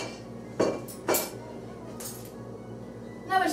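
A 12-month-old baby pulls spatulas and other kitchen utensils out of a drawer, making scattered clinks and clatters of metal and plastic over a low household hum, and an adult talks in between.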